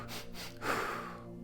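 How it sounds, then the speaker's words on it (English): A sharp breath shown as an anxiety-reducing exercise, a quick audible intake followed by a brief rushing exhale, close and quiet, heard alone. "So whether you do sharp breaths like"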